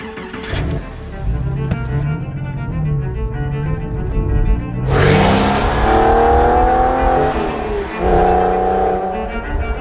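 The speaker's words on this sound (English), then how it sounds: "it gives it a really nice extra bark" A Porsche 911 (996) flat-six engine with a sports exhaust idles roughly, then blips sharply with a barking exhaust, revving up and falling back twice, loud and close.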